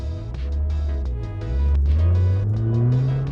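A 110-horsepower Mazda 323F (also sold as the Astina or Eunos 100) pulls away from a standstill without wheelspin. Its engine note rises in a smooth, loud, close drone as it accelerates, with no talking.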